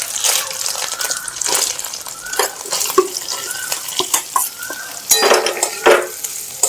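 Potatoes tossed into a pan with ginger and green chili, with a soft sizzle under clinks of a spatula and stirring scrapes against the pan, in irregular bursts.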